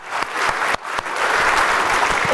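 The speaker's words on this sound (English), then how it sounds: "let us give a warm round of applause to Mr. Lee for his insights and sharing today" An audience claps steadily for Lee Hsien Loong, a dense wash of applause that dips briefly near the start before swelling into sustained, loud clapping throughout.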